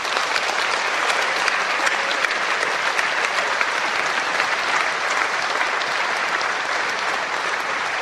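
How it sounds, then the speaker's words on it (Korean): Steady, full applause from a church congregation fills the hall at the Korea Evangelical Holiness Church anniversary service and inauguration of new leadership, continuing evenly and without a break. "축하해야 될 것 같습니다. 박수로."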